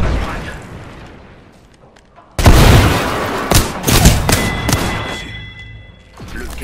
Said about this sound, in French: J'envoie une grenade prime.